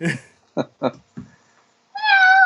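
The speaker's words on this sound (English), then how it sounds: "Oh, he's a kitty." A cat gives a few short meows followed by one longer, clear, drawn-out meow, loud and close, with silence between the calls.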